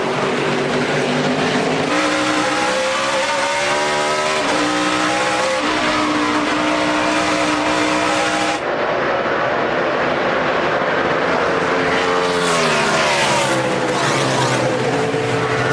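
NASCAR Sprint Cup race cars roar loudly around the track on the final lap, engines rising and falling in pitch as they pass, with a continuous dense drone and tire squeal throughout.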